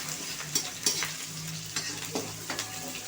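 Torn chapati noodles frying in a pan with green chilli, a soft steady sizzle with a few sharp spatula scrapes and taps close by, no voices.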